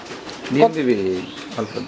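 Running Maltese pigeons at a pigeon farm give a close, soft cooing call with a rising and falling tone, with a shorter second coo near the end.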